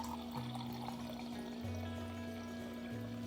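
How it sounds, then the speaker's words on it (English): Water pours into lemon juice in a homemade lemonade, a steady close trickle with a low hum running through. "So I'm gonna add some water."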